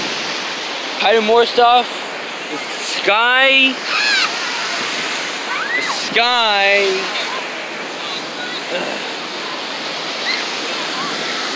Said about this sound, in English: Bigger waves a little bit, right?